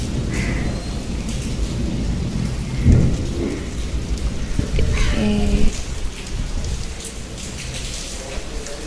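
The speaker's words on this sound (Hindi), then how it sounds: "तो देखिए गाइस सुबह सुबह कितनी अच्छी बारिश हो रही है।" Heavy rain pours steadily while low rumbles of thunder roll through, one deeper boom standing out midway.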